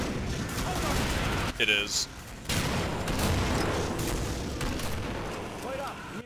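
Flashbang rounds burst in a video game firefight, a dense run of sharp loud bangs and crackling blasts with a brief lull midway, while a voice speaks over the action.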